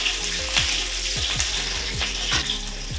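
Onion is added to a pan of browning garlic for a mushroom dish and fries with a steady bright sizzle, punctuated by a regular series of scraping or clicking strokes, close and without talk.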